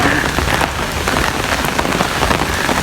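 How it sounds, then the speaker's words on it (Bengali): Heavy rain pours down during a cyclone, a dense, loud and continuous hiss of drops striking surfaces close by, with no voices. "আজকে সারা দিন বৃষ্টি হয়েছে"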